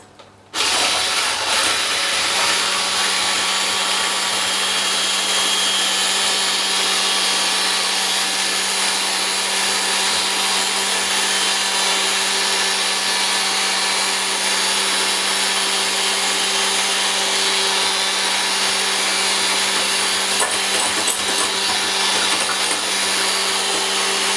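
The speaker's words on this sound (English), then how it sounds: "I'm using an electric whisk because that's the easiest way to do it" An electric whisk beats two egg whites for meringue, a loud, constant high motor whine running unbroken from a sudden start, close up and alone with no talking.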